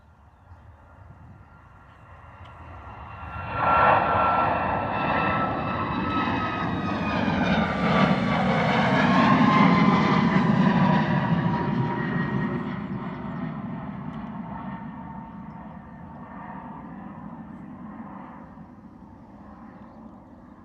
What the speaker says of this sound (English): Gorgeous departure there from the Ryanair Boeing 737